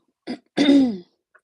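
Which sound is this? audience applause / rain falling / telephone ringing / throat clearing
throat clearing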